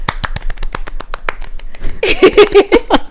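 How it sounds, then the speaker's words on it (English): A few people on a pop punk podcast clap for themselves, sharp separate claps with a short pause, then a burst of clapping and laughter-like voices near the mic. "We'll clap for ourselves."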